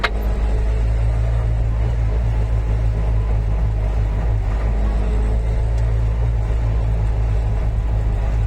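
Steady low engine rumble from a Trabant car driving around Berlin, heard from inside as a constant droning hum with no talk.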